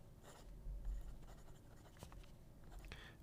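A red Vajon V60 fountain pen with a 1.1 stub nib scratches softly across paper in faint, continuous strokes with a few small taps, close and quiet.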